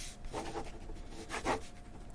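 Soft, close rubbing and scrubbing strokes come in two brief bursts over a quiet background, faint and textured like cloth or a brush dragged across a surface.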